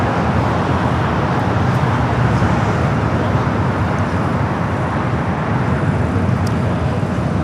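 A Boeing 737-900ER airliner arriving at LAX from Portland makes a loud, continuous broadband jet roar that holds steady throughout.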